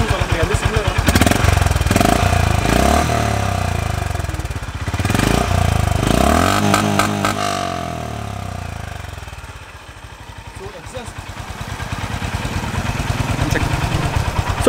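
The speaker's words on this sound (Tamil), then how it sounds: "ஸோ இதோட எக்ஸாஸ்ட் நோட் வந்து நீங்கள் கேட்டிருப்பீங்க" Honda H'ness CB350 motorcycle exhaust: a loud, close engine revs up and down in several swells, then settles to a lumpy idle and builds again.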